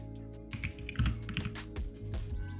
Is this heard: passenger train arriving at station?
no